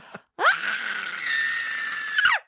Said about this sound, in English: I'm just gonna scream at you breaking my mirror